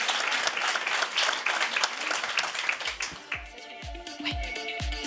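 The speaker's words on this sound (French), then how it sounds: "je crois qu'on peut tous les applaudir" Audience applause at the HUB35 awards ceremony, a dense burst of many hands clapping that thins out toward the end as a few louder, closer claps stand out.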